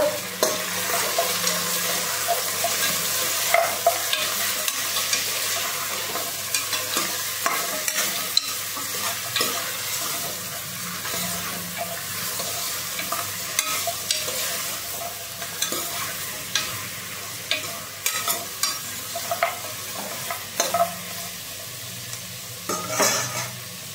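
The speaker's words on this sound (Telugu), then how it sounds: "అవి కూడా ఆయిల్లో కొంచెంసేపు ఫ్రై చేద్దాం." Mutton trotters fry in oil with onions for a paya curry, sizzling steadily with a constant close hiss while a spatula stirs and scrapes against the pot in frequent irregular clatters, no voices.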